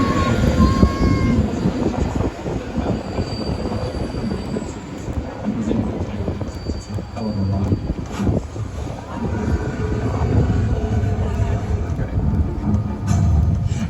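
A Universal Studios Hollywood tour tram rumbles steadily along its route near Skull Island, with wheel squeals and rattling under distant voices for the full stretch.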